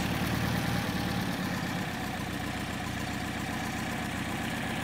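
A Porsche 356 engine with Solex 40P11 carburetors idles at a steady, even rumble, continuous and fairly close, with a slight change in tone early on.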